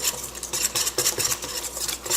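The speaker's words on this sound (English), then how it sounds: "Let's mix it up a little." Batter for zucchini, bacon and parmesan fritters stirred in a bowl, a steady run of close scraping and clinking strokes against the bowl with no talk.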